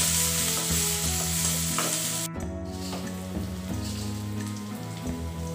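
Finely chopped onion, green chillies and curry leaves fry in a pan for carrot rice, giving a dense, rain-like crackling sizzle that briefly cuts out midway, then resumes with soft stirring; no talking.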